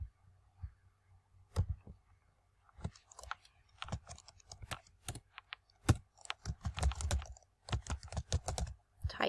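Computer keyboard typing, close and fairly quiet, in irregular bursts of sharp key clicks with short pauses, alone with no talk.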